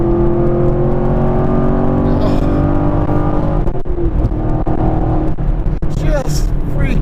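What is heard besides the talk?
Chevrolet Camaro SS 1LE engine revving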